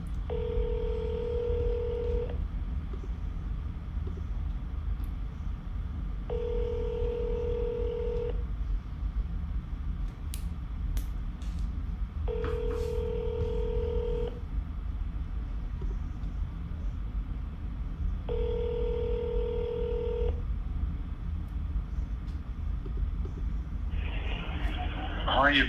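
Cold-call ringback tones repeat in a steady pattern of four long buzzes with pauses between them, heard through a phone line under low background hiss while a voice talks.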